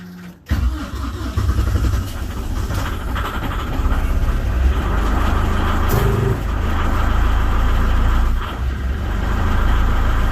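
Fat Truck amphibious vehicle engine idling roughly in cold weather just after starting unaided, a loud, close, continuous chugging rumble that begins with a sharp catch and holds steady throughout.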